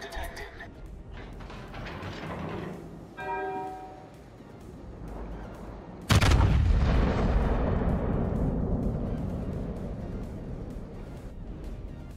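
The battleship Vermont fires its main guns in World of Warships, a single heavy boom breaking partway through and leaving a long rumbling tail over game ambience, with someone talking before the shot.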